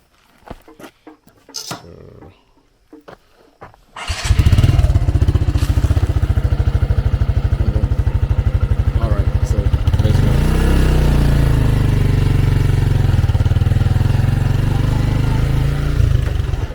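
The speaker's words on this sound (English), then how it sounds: "you guys will see what it's like to ride your bike at night" A motorcycle sets off on a dark road in northern Nigeria. After a few seconds of small clicks and knocks, its engine starts into a loud, steady, close drone that continues without a break to the end.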